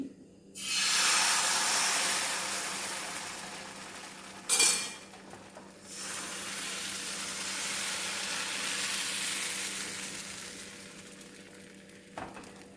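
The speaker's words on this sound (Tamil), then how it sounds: "இப்போ கல் நல்லா காஞ்சிருச்சு. நம்ம ஒரு கரண்டி மாவு ஊற்றி" A ladle of paal appam batter hits a hot griddle and sizzles with a loud, steady hiss, broken by a sharp clank of a pan or lid before the hiss resumes, softer and fading, with no talk.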